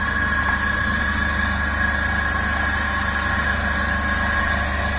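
A 3-phase induction motor runs under load with a steady, loud electrical hum and a constant droning whine, unbroken throughout, with no talk.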